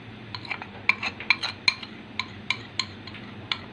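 A spoon clinks against a bowl while custard powder is stirred into milk, a run of bright, quick taps at an uneven rhythm, close and fairly clear over a low background hum.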